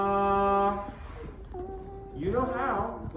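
Trumpet sounding a sustained G, bright and steady for under a second, followed by speech-like vocalizing with trailing note fragments.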